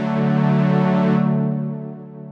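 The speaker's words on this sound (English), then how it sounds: "Now we'll select a preset patch and we'll use the low strings here." Low strings preset from the OBXD synth plugin running on a Zynthian, a single sustained, harmonically rich bowed-string-like chord that holds steady, then its upper brightness fades away as the note decays.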